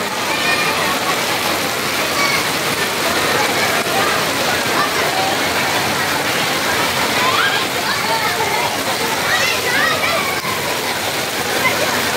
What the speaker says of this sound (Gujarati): જો અહીંયા પતરા છે ને એમાંથી ઓટલું પાણી છે.